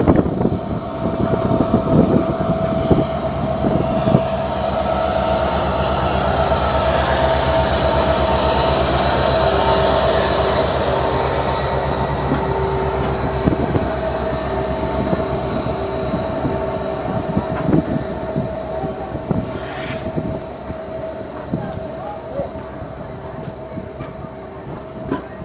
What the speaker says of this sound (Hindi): ट्रेन अभी हमारी पहुँची है मंगलुरु जंक्शन